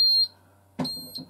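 An Apollo addressable fire alarm system sounds a pre-alarm in two bursts: a sharp, piercing electronic tone with a lower rough pulse under it, and a short gap between them.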